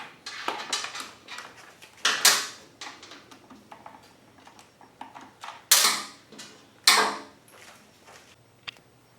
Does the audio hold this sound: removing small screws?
yes